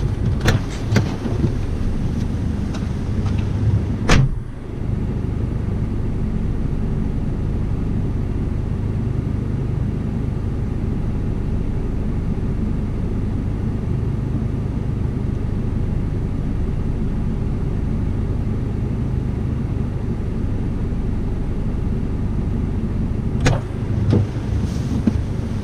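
Steady, loud low rumble of a four-wheel-drive camper vehicle driving on a road in Australia, with a couple of brief knocks near the start and end; no speech.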